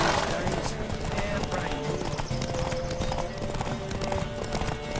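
A horse gallops in a race in The Witcher 3, its hooves drumming in a fast, dense rhythm under a bed of game music, with snorts and a whinny mixed in.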